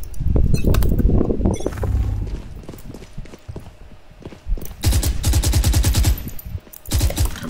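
Gunfire in a video game: loud, close rapid bursts of automatic fire with single shots between them, stopping and starting in uneven volleys.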